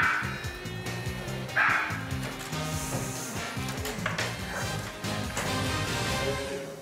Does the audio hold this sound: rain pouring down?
no